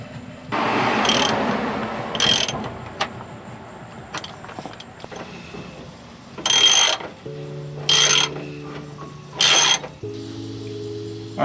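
A wrench clicks and ratchets while tie rod ends on a truck are tightened, with several sharp metallic bursts and clinks among quieter handling noises, close by and without talk.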